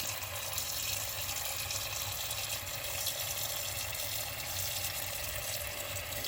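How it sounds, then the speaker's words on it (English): Water runs steadily from a tap into a pot, a continuous close-up splashing hiss with no pauses. "I'm going to put some water in the pot"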